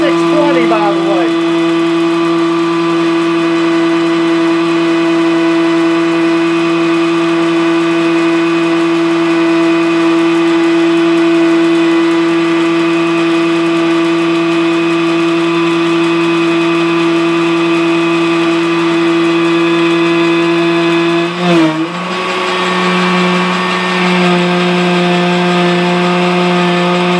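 A machine tool cuts a gear from 8620 steel, taking 40-thousandths passes in an interrupted cut, giving a loud, steady, tonal machining whine with a brief disturbance near the end.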